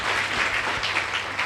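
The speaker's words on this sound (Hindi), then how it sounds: "ताली तो बजाओ।" Applause from an audience at a Brahma Kumaris gathering in Madhuban, steady dense clapping close by for about a second and a half with no talk over it.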